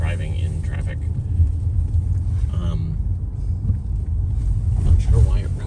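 A car driving in traffic on English roads, heard from inside the cabin: a continuous low rumble of engine and tyres with some wind noise, steady and fairly loud, while people talk over it.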